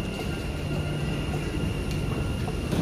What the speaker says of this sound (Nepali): सो ट्रेन आइसकेको अवस्था छ।